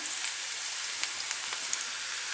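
Green peppers frying in hot oil in a pan give a dense, continuous sizzle with a few sharper pops and crackles scattered throughout, close and fairly loud with no talking.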